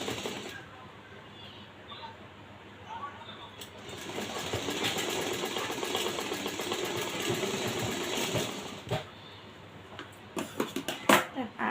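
Sewing machine stitching a puff sleeve on a blouse, a steady mechanical whirr running for several seconds after a quieter start, then short bursts and clicks near the end, close and without talk.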